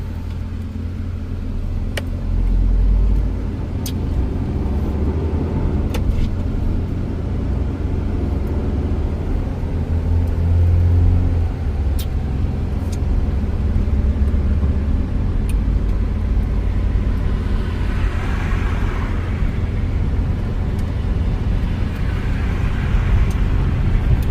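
A car driving on a road in northern Thailand heading toward Chiang Mai, with a continuous low engine and tyre rumble from inside the vehicle and occasional faint clicks, without speech.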